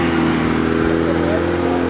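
A Nissan GT-R's engine runs in a steady, loud drone with a constant tonal hum and a slight rising pitch, heard close by outdoors.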